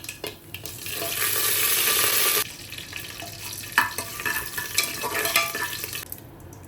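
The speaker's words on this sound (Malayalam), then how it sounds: "വറ്റൽമുളകും കറിവേപ്പിലയും ചേർത്ത് കൊടുക്കാം" Dried red chillies and curry leaves hit hot coconut oil with popped mustard seeds for rasam rice, giving a loud sizzling burst that drops after a couple of seconds into quieter frying with stirring scrapes and clinks.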